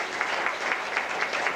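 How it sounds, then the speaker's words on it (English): An audience at a volunteer appreciation day event applauds volunteers with brief, steady clapping from a room full of people, heard alone without talk. "Let me just give them a round of applause"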